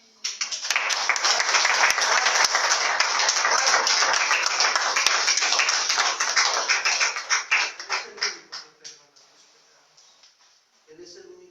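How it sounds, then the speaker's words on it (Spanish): Church congregation applauding steadily and loudly for several seconds during a Spanish-language sermon, the clapping thinning into scattered claps before a brief pause. "¿Cuántos le dan un aplauso al Señor?"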